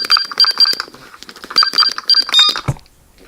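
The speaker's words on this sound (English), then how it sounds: "It's just my alarm. I'm sorry if that is quite loud" Loud electronic alarm clock ringing in bursts of rapid high beeps, repeating twice before cutting off with a click.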